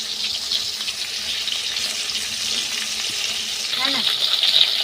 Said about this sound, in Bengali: এই যে কড়াইতে মাছ দিয়ে দিয়েছি, মাছগুলোকে লাল লাল করে ভেজে নেব।